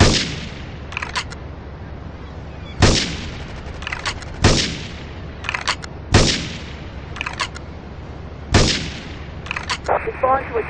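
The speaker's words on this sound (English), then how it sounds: "Investigate reports of gunfire and explosions." Gunfire and explosions in Grand Theft Auto III come as loud repeated blasts and shots at irregular intervals, with crackling echoes and a steady background hum between the bursts.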